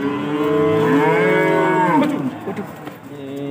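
Cattle at a livestock market for sacrificial animals, a single long, loud, close moo that bends in pitch and fades into quieter barn noise.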